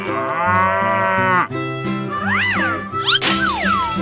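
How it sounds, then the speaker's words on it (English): A cartoon cow moos loudly in a 3D animal slide video game, its long drawn call sitting over steady background game music, followed by sliding, swooping synthetic effects. "Cow."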